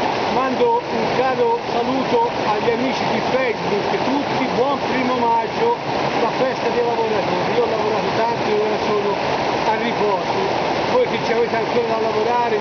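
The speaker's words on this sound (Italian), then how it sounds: "c'è il rumore dell'acqua" The Secchia, a mountain torrent, rushes close by in a loud, unbroken roar of water that runs through the whole stretch while someone talks over it.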